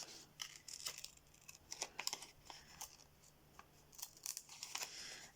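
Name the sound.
scissors cutting out shorts shape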